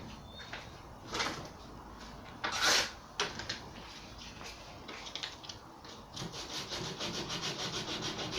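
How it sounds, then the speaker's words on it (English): Sanding paint off a wooden drawer, a steady scratchy rubbing that comes in uneven strokes, with a louder burst near the middle and faster, rhythmic strokes toward the end, close and alone. "Just sanding off a little bit of paint I'd caught on the wood"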